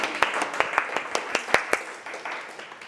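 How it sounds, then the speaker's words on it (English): A small Toastmasters meeting audience gives a brief, sparse round of applause, a handful of distinct claps at an irregular rhythm fading out after a couple of seconds, close and fairly quiet. "good round of applause."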